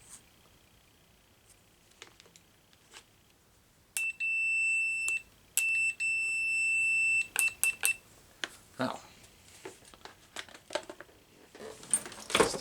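A Pro'sKit SS-331 multimeter in audible continuity mode gives two steady electronic beeps, each lasting about a second and a half, close and clear. Faint handling clicks and rustling come before and after them.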